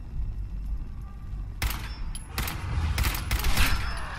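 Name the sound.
rapid automatic gunfire from the video game Fallout 4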